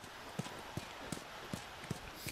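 Horse hooves clip-clop at a steady walking pace in The Last of Us video game, six evenly spaced hoof strikes over a quiet ambient background.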